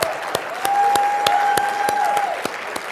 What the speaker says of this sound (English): Give yourselves a big round of applause, you guys.